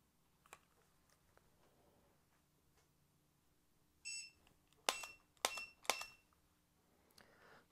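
A Laser Ammo I-MTTS Arena shooting target program sounds a short electronic start beep, followed by a few sharp, loud clicks in quick succession, over a quiet room background.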